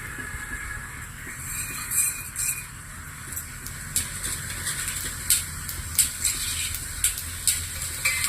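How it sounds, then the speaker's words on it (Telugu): Mustard seeds and cumin frying in hot oil for a breakfast dish, a steady sizzle with scattered sharp pops and crackles and a few stirring clinks of utensil on pan, close and continuous throughout. "ఆయిల్ హీట్ అవ్వగానే ఆవాలు, జీలకర్ర"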